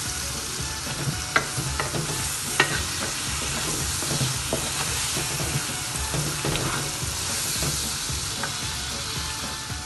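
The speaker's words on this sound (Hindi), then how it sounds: "तो अब इसको थोड़ा सा भूनूंगी मैं" Whole cloves and black peppercorns dry-roasting in a pan, a steady close sizzle broken by a few sharp scrapes and taps from stirring, with no talking.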